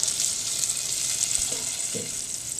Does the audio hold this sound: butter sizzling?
yes